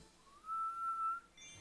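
A person whistling inwards produces a single sustained, steady high tone lasting under a second, close and clear against a quiet background.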